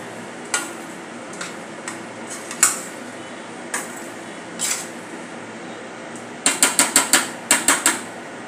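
Potatoes are stirred into a thick spiced dum aloo gravy in a pan, with a spoon making light clicks and knocks against the pan edge that speed up into a quick run of taps near the end.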